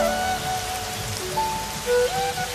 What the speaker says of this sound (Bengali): মেঘ হতে না হতেই ঝমঝম করে নামলো বৃষ্টি।